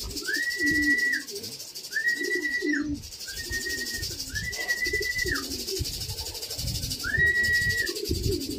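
Pigeons coo repeatedly in a loft, a series of soft, rolling calls spaced a second or two apart over a low rustling background.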